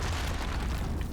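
A deep, continuous boom from a video game explosion, The Binding of Isaac, fills the moment with a loud, sustained low rumble and no talking.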